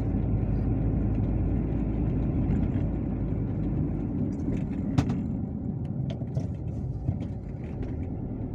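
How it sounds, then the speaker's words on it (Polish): A bus bound for Jelenia Góra rolls downhill through winter Karpacz, giving a steady, close, low engine rumble with a few faint clicks near the end. "Autobus do Jeleniej Góry zjeżdża na dół."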